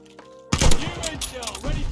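A Kar98 bolt-action rifle shot in a video game: one sharp, loud crack after a quiet lead-in, then a ringing tail with more gunfire and game sound.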